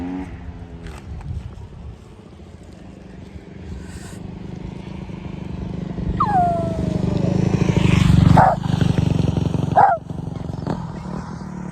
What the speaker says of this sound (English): Oh, hang on, motorbike coming